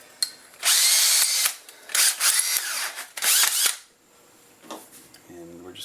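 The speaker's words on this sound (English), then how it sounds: "I'm going to use a 3/8 drill." A 3/8 cordless drill whirs in several loud, sustained bursts while mounting a rotary switch, with short pauses between runs, then quieter handling clicks at the end.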